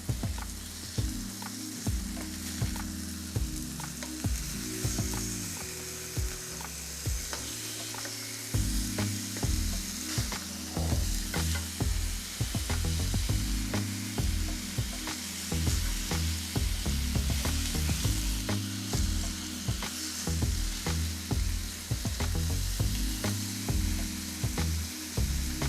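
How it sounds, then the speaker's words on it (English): Pork chops frying in a pan for a stew, a steady close sizzle and crackle with scattered pops that runs the whole time, loud and with no talking. "I'm gonna let them fry on this side"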